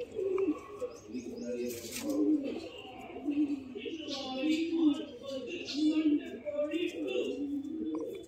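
Female Rekhdar pigeons kept for sale coo in soft, rolling low phrases that repeat throughout, close by, with occasional chirps and someone talking over them.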